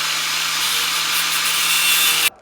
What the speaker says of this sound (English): I'm just gonna use an angle grinder. I like these furred thin cut discs